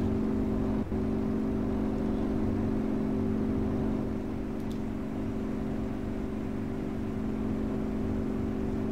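In the DCS World flight game, a Yak-52's piston engine misfires while the plane flies inverted, giving a steady, low, droning hum with no voices over it.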